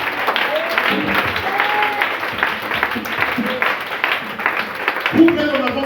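A church congregation bursts into sustained applause and acclaim during a sermon, a loud, dense wash of clapping with cheering voices throughout.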